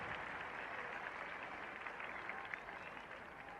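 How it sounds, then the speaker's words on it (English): Muted applause from a cricket crowd watching Tony Greig bat against Australia, a faint, distant, steady patter of clapping with no voices. "Muted applause, I think"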